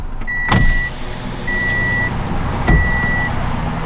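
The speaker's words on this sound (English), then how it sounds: "let me turn the car on" A Toyota GT86 is switched on, giving three evenly spaced electronic chime tones, two dull thumps and a steady low hum inside the cabin.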